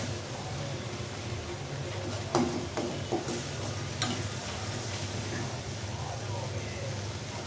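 Tomatoes fry in a pan for a katla fish curry while a spoon stirs them, a soft steady sizzle with a few close scraping clicks in the middle, a low hum beneath and faint talk around.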